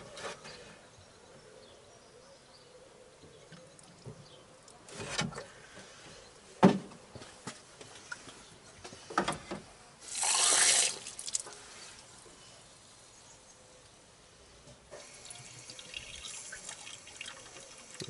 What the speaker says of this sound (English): I can hear it gurgling now.